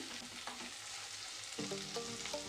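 Tamarind and garlic are stirred in a frying pan for a cucumber pickle, over a steady, fairly faint frying sizzle, with a few soft scraping strokes and light clinks in the second half.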